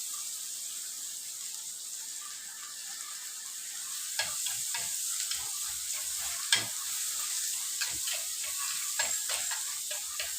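Fish being sautéed for fish molee gives a steady sizzle with scattered scraping stir strokes in the pan, growing busier in the second half, close and alone with no voices.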